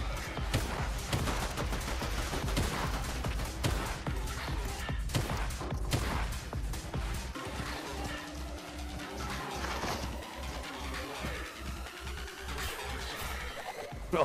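Rapid bursts of gunfire in the Fortnite video game, dense and steady through most of the stretch, then thinning to scattered shots with other game effects.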